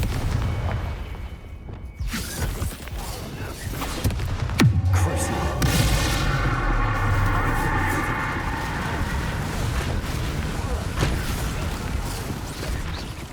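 Bombarda and Confringo spell blasts from the video game Hogwarts Legacy burst out as booming impacts with crashing debris and rumbling effects, mixed with a voice calling out spells over the game's sound.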